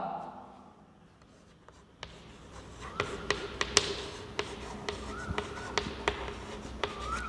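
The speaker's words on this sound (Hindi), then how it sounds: "मैं आपको यहाँ क्वेश्चन लिखता हूं" Pen writing out a question by hand on paper, with quiet scratching and a series of small taps and strokes, faint and close, with a soft voice speaking briefly at the start.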